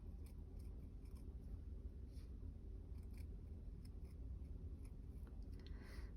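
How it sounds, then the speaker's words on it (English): Scissors snip freehand around a small circle in felt for making a button, a run of quiet, close, irregular crisp clicks and cuts with no talk. "I'm going to try to freehand cut this using that little circle as a guide."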